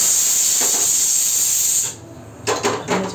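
A pressure cooker releases a loud, steady jet of hissing steam in a home kitchen, which cuts off abruptly near the end, followed by a few soft clattering kitchen sounds.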